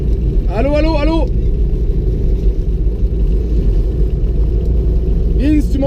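Mobylette moped engine riding in third gear at about 60–70 km/h, a steady loud rumble running throughout with wind buffeting, while a voice talks briefly at the start and again near the end.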